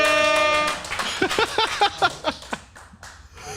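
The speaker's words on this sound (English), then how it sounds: "Opti, be ready with the air horn" A loud, brassy air horn blast sounds for under a second, then gives way to scattered clapping and lively voices.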